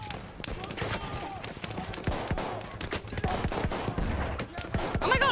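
Dense bursts of rapid gunfire from the Battlefield 1 campaign in a desert setting, sharp overlapping shots crackling continuously with a voice occasionally mixed in.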